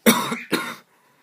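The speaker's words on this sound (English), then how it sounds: "As you can tell, I've still got a cough." Two short, harsh coughs close by, one after the other, then quiet.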